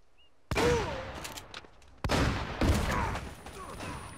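Shotgun blasts in the video game Uncharted: Drake's Fortune, two sharp loud reports spaced about a second and a half apart, each followed by a dense rumbling gunfire tail.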